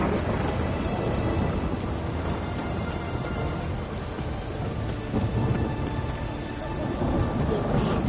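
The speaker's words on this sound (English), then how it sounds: "It's raining." Steady heavy rain in The Witcher 3 pours continuously, with a low rumbling undertone like distant thunder throughout.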